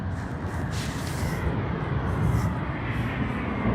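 A China Southern Airlines airliner at Sydney Airport, a broad steady jet roar that swells slightly toward the middle, heard from a distance with no talking over it.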